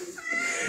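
A cat meows once, a short rising whine that draws out into a strained, higher cry, fairly close and with no talk over it.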